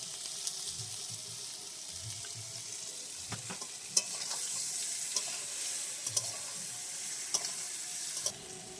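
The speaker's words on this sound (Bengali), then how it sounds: "ইঁচড়টা হালকা করে লাল লাল করে ভাজা হয়ে গেছে" Young jackfruit pieces frying in oil in a pan for a jackfruit biryani, a steady close sizzle running throughout with occasional sharp clinks and scrapes of stirring, no voices.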